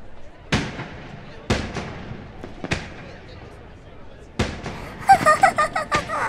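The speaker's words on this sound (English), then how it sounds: "Fireworks!" Video game fireworks boom one after another at uneven intervals, each a sharp burst with a trailing crackle, ending in a flurry of quick crackling pops.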